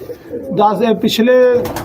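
A racing pigeon coos close by in a few soft, throaty warbling phrases, loud and near.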